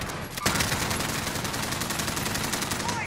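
Loud, sustained automatic gunfire in Call of Duty: Modern Warfare, rapid shots blurring into a continuous rattling barrage that runs unbroken for about three seconds.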